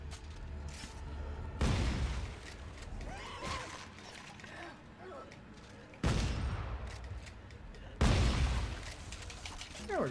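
Shotgun blasts in Dead Space 3 boom loud and close, three heavy shots spaced a few seconds apart, each with a ringing tail, over a busy combat background with some talk.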